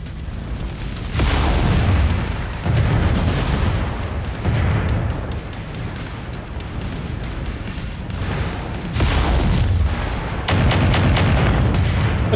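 Heavy explosions boom one after another as aerodrome buildings are destroyed in MechWarrior 5, loud deep blasts in repeated bursts with crackling debris and rumbling between them.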